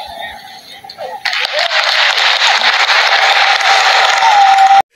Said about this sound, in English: Listen to the applause after that sermon.